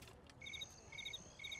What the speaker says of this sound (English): Oh no, we've got a cricket infestation.